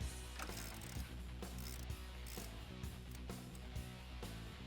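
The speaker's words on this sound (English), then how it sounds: "we can switch over to a hand ratchet and use that wrench to help us remove the bolt" A hand ratchet loosens a front upper control arm bolt on a 2004-2020 Toyota Tacoma, giving repeated quick pawl clicking in short bursts with small metallic knocks, close and fairly quiet, no talking.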